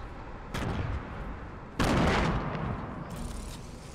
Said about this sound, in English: I'm shooting people here, Oshin.